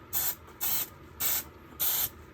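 Four short bursts of heat-stable silicone release agent are sprayed from a can onto a resin mold, each a crisp hiss lasting about a third of a second, evenly spaced in a quiet room.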